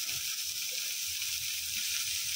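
Green chillies and a large tomato frying in a pan, giving a steady, even sizzling hiss close by for a couple of seconds with no talk.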